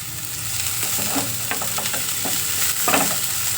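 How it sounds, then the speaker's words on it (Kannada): Onion and garlic fry in oil for a brinjal and field bean sambar, a loud, close sizzle with scraping stirring strokes running throughout, no speech. "ಐದು ನಿಮಿಷಕ್ಕೇ ಅದು ಫ್ರೈ ಆಗುತ್ತೆ"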